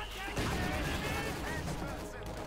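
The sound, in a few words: mortar and rifle grenade fire in video game Company of Heroes 2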